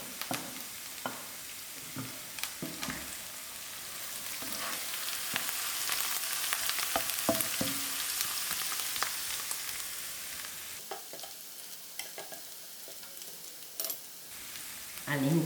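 Green chilies fry in a hot pan for egg chutney, giving a close sizzle that swells and then settles, broken by occasional stirring knocks, with no voices.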